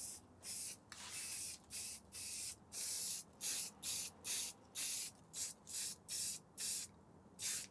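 Primer sprayed onto a wooden Nazgul sword prop in repeated short bursts, about a dozen crisp aerosol hisses separated by brief pauses, close and fairly quiet with no talk.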